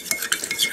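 A teaspoon stirs syrup in a jar, with a heaped spoonful mixed in water, giving a few light metallic clinks and scrapes against the glass, close and quiet with no talk.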